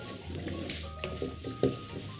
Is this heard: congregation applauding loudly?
no